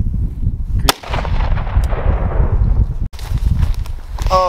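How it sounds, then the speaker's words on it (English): A 5.56 green tip round is fired into a homemade Kevlar plate: a loud, sharp close-range gunshot with a long decaying echo, then a second sharp crack and brief clatter near the end, with no talking. "let's put a green tip in and shoot one and see if it goes through."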